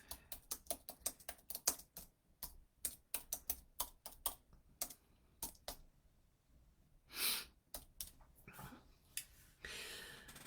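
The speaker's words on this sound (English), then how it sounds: "I'm just going to write a note in here." Fast, close tapping of keys on a computer keyboard in irregular bursts with short pauses, fairly quiet, with soft breathing and no talk.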